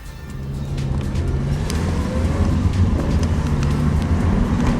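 A car engine drones steadily as it drives a demonstration lap on the Three Sisters race circuit, heard from inside, loud and continuous with road and wind noise.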